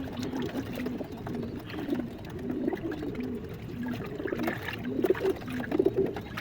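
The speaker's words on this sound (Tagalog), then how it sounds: "Yun mga kalapatids." Pigeons cooing in a flock of about fifty kept birds, soft repeated low coos overlapping steadily throughout at close range.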